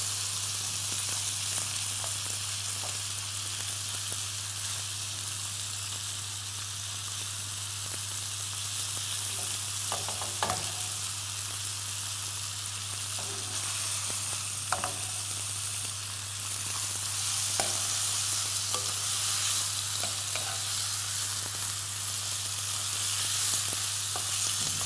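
Chicken and onion sizzle steadily in hot oil with turmeric added, a continuous close frying hiss with occasional faint clicks of stirring, no voices.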